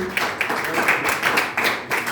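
A church congregation claps together during a gospel service, a dense, steady patter of many hands filling the room with slight surges, close and continuous throughout.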